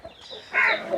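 A breeding fighting rooster, a good-lineage cock used for breeding on a farm in Machilipatnam, gives a short close cluck, a brief throaty call of under a second.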